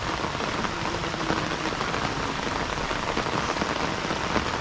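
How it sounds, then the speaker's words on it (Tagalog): Steady rain falling at a rural provincial fishing spot, a dense, even hiss of drops on surfaces with no pauses, close and moderately loud throughout. "umuulan kasi"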